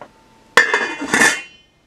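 A metal lid set onto a cooking pot of eggplant stew: a sharp clanking contact followed by a second rattling clink as it settles, close and brief.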